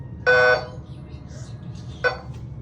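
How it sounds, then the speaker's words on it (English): A hotel building fire alarm sounds in two harsh, buzzing bursts, the first longer and the second brief, with faint voices in the background. "Yep, that was the fire alarm."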